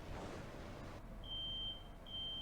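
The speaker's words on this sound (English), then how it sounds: "Oh, the fire alarm's going on again." A fire alarm in a video game beeps in two thin, high, steady tones over a low, muffled background, faint and without talk.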